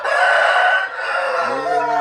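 A Sam Yiao breed rooster crows loudly and close, a long strained call that trails off into a few lower clucks.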